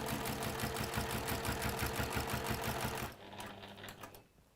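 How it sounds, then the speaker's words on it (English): A sewing machine stitching a seam runs in a fast, even mechanical rhythm for about three seconds, then stops, leaving a softer whir and faint clicks. "And we'll sew that final side"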